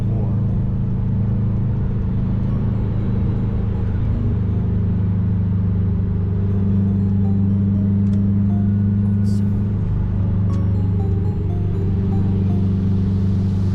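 A rebuilt Subaru WRX engine idles while warming up in the cold, a loud, steady low rumble that holds level throughout with only faint shifts in tone.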